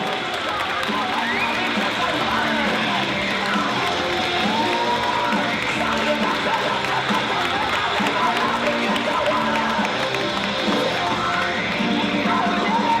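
Crowd at a men's physique and bikini bodybuilding show applauding and cheering continuously, a dense roar of clapping and yells filling the hall throughout, with an announcer's voice over it.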